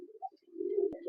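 A Bihari pigeon gives a soft, low, wavering coo that swells into one longer note, faint and close, with a sharp click near the end.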